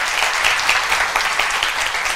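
Audience at a medical seminar applauds a finished lecture, with loud, continuous clapping from a full room and sharp individual claps standing out throughout.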